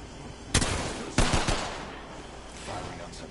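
Two sharp bursts of gunfire in an Apex Legends match, the first a single crack and the second a short rattling volley, each fading into a dull background rumble.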